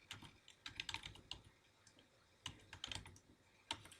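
Someone types an email address on a computer keyboard to sign in: bursts of crisp, close key clicks in uneven runs with short pauses, quiet and without any talking.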